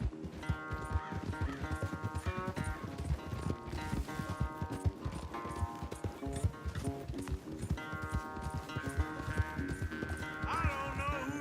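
Hooves of a horse galloping during a race in Red Dead Redemption 2, a steady rapid clip-clop running throughout under a prominent musical score.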